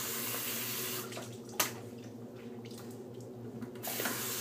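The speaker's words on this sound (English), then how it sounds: "Go ahead, re-wet the brush, squeeze some of the excess water into the Vetiver Planet" Water from a tap runs steadily to re-wet a badger shaving brush at a sink, a continuous close hiss with a brief splash partway through and no talking.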